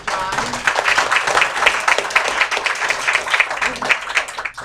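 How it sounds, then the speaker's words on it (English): Applause from an audience at a community meetup fills the room with dense, close clapping that holds steady for several seconds, with voices mixed in among the crowd. "He missed our applause."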